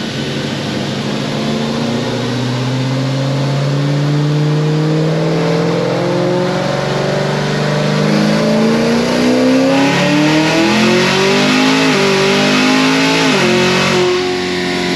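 A Whipple-supercharged 6th-gen Chevrolet Camaro ZL1 on a dyno revs hard and loud, its engine note climbing steadily through the rev range with rising harmonics over about fifteen seconds, alone with no talking.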